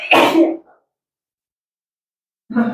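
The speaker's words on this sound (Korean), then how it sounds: "기침이 왜 이렇게 귀엽게 해." Two short, sharp coughs from a student during a classroom lesson, close and loud, separated by about two seconds of silence.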